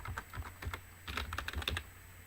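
Quick bursts of typing on a computer keyboard, with irregular clusters of key clicks at close range and no voices.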